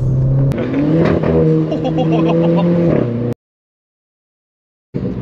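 Renault Clio 4 RS Trophy hatchback with a freer aftermarket-style exhaust line, heard while driving: a loud, steady engine drone with rising revs and a gear change, then an abrupt cutoff to silence before the engine note returns briefly.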